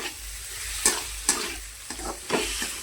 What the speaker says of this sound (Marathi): आता गिरवीसाठी टमाटे टाकायचे, थोडं तळून घेऊ